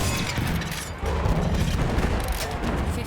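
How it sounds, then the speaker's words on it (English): Artillery strike explosions in the World War I shooter Battlefield 1, a sustained roar of heavy booming blasts with a sharp fresh impact about a third of the way in, loud and continuous with no talk. "in multiplayer, you can send an artillery strike on your vehicle location"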